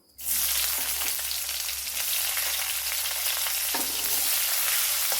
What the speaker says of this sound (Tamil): இது செவந்து வர நேரத்தில் நம்ம வெங்காயம் போட்டுக்கலாம்